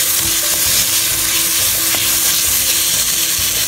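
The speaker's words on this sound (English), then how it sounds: "now dropping in tomato, cooking till the masala forms and tomatoes go tender." Tomatoes frying in a ginger garlic paste masala, a dense close sizzle with steady crackle and occasional stirring scrapes, continuous with no voices.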